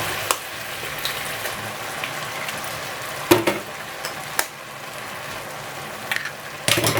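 Two eggs sizzle and fry in a pan for fried rice made with coconut milk, a steady close crackle with a few sharp louder pops and stirring clatters.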